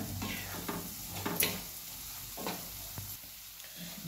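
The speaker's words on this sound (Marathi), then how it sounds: "बघा मसाला चांगला भाजूया आता." Masala with green chili roasts in oil in a pan while being stirred for a kharam vangi brinjal dish: a soft steady sizzle with several scraping spatula strokes and a clink, fairly quiet and up close.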